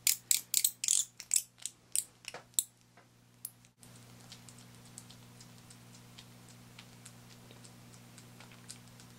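A wild bat makes rapid, clicky mouth noises while feeding, with a burst of sharp ticks at first that then thin out into faint, scattered clicks over a low steady hum.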